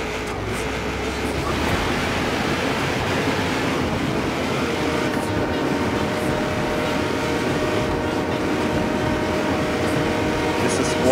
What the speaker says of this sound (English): Race against the freight train.